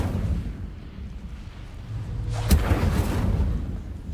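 An Incendio fire spell cast in Hogwarts Legacy, a sudden whooshing burst of flame over a low rumbling game backdrop, with a loud crackling flare midway that trails off.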